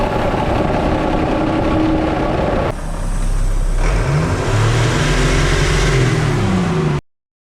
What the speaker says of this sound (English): It makes all kinds of RPM, Dave.